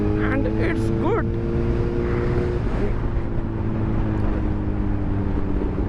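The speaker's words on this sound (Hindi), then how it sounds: "भाई यार क्या स्मूथ चल रही है यार बाइक" A Suzuki GSX-R1000R motorcycle rides along with a steady, loud engine drone and continuous wind rush, while a rider talks over it throughout.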